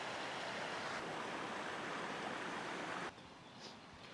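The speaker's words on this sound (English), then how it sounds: "That's a beautiful waterfall right there." A waterfall along a hiking trail in Austin gives a steady, broad rush of falling water for about three seconds, then drops abruptly to a quieter, distant wash.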